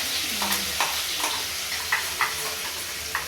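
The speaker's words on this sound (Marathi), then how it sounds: "गरम झालंय ग्रेव्ही टाकते" Gravy poured into a hot pan sizzles and hisses while matar paneer cooks, a steady frying crackle with scattered spoon scrapes and stirring clicks close by.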